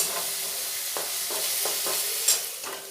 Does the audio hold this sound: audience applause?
no